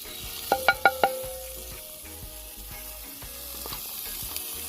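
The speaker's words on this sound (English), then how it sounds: "So we're just going to saute these for a minute and a half or less." Vegetables sauté in a pot for a Caribbean-style fish dish, a constant sizzle with a quick run of four sharp clanks from a utensil near the start, then softer stirring scrapes; nobody speaks.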